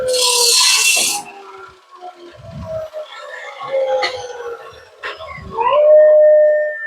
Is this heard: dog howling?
yes